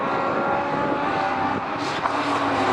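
Race cars on the Croft circuit lap past the Armco barrier in a sustained, steady engine roar that holds at a moderate distance throughout, with no voices.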